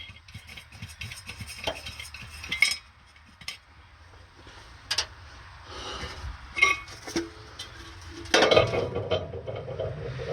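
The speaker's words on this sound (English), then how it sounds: "So let's take the air cleaner lid off and see what's inside of here." An air cleaner lid is worked loose and lifted off an old engine on a field-find vehicle, with scattered metallic clinks, taps and scrapes, and a louder rattle of stored acorns near the end, all close and without talk.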